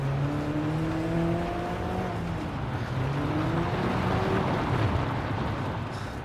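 A race car engine at full throttle in Gran Turismo Sport roars steadily, its pitch climbing and shifting through gears across several seconds, loud and continuous with a rough mechanical edge.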